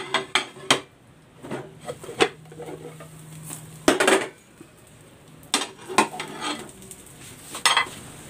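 An eggplant frittata being flipped and shifted in a frying pan, with sharp metallic clanks and scrapes of a utensil against the pan at irregular intervals, close and fairly loud.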